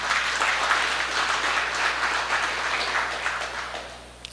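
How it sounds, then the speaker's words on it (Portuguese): A church congregation breaks into applause during a service, a dense, even wash of many hands clapping together that stays loud and then tapers off at the end. "Vamos dar uma salva de palmas para o Senhor Jesus?"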